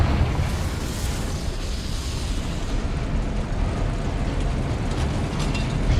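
A Confringo fire spell explodes in Hogwarts Legacy, a continuous heavy roar of blast and rumble that fills the whole clip at a steady loudness, with no voices.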